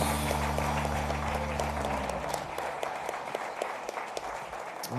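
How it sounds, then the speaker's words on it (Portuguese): A church congregation applauds together, a dense sustained wash of clapping heard close and steady, with a low musical hum underneath. "Aplauda ao Senhor"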